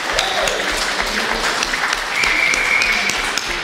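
Audience applause at a live podcast event, PodRennes 2019, with dense, steady clapping filling the whole stretch at close range and no break.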